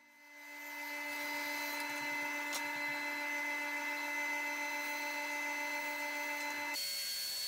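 A miter saw spins up and holds a steady high-pitched whine while cutting wood pieces to length, with a brief click midway and a shift in tone near the end as the blade winds down.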